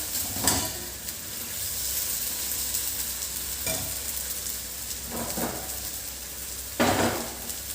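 Food frying in hot oil sizzles steadily, with a few louder bursts of spatter and stirring clatter against the pan.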